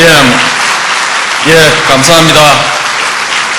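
Applause from an audience at a memorial lecture for the former president fills the room, with a voice speaking over the clapping as it continues.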